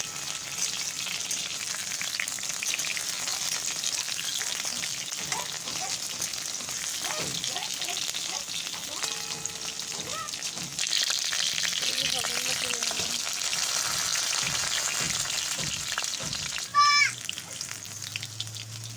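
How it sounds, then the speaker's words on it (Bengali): Pointed gourd (potol) frying in oil without salt or turmeric, a steady close sizzle running throughout with stirring clatters, a brief metallic clink near the end. "পটলটাও দেখো আমার ভাজা হয়ে গেছে প্রায়"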